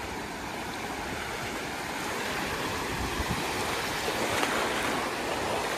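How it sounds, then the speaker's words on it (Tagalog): Strong wind at Playa San Juan beach in Alicante, Spain roars steadily with rumbling gusts buffeting the microphone, mixed with the wash of surf; no talking. "Ang lakas ng hangin."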